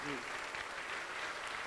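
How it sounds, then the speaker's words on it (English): Brief, steady applause from an audience at an event about investing in Detroit, a continuous wash of clapping with a faint voice underneath at the start. "Ladies and gentlemen, a round of applause."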